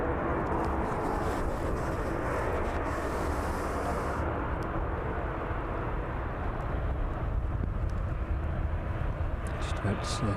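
A Jet2 airliner passes at East Midlands Airport, its engines producing a powerful sustained roar close by that shifts in tone as it goes, with a voice talking over it.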